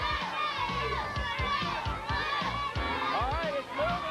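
Children shouting and cheering on a bucket race in a 1987 program, a lively crowd of young voices with excited yells and scattered chatter throughout.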